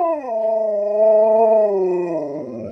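An Alaskan Malamute lets out a sustained, wavering howl-like vocalization, close and loud, rising slightly mid-way then sliding down into a gruff groan at the end, with no talk over it.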